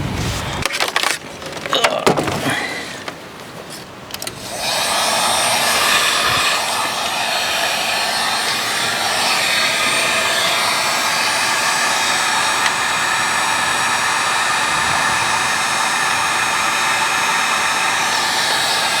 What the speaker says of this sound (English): Let me go get my heat gun.